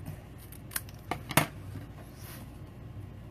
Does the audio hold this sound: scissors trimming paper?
yes